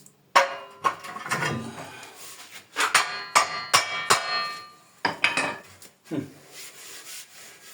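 A wooden handle is hammered into a shovel blade to tighten it in place, with a string of sharp, close knocks in uneven clusters and short rubbing scrapes between the blows.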